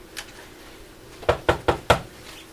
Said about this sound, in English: Wait, I hear knocking.